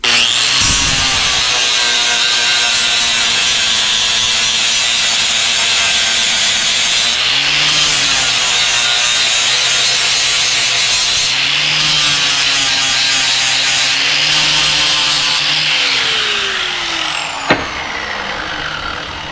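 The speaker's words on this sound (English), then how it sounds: "That's how you get rid of the problem with China, is you take a grinder to it." An angle grinder grinds down markings on a metal heavy lift hook, a loud continuous rasping whine that wavers in pitch as pressure changes, ending with a sharp clank and fade, no talking.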